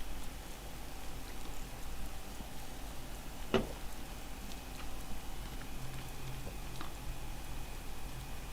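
Steady rain in the DayZ video game, a soft, even hiss of falling drops with one brief tick near the middle, low and continuous with no one talking.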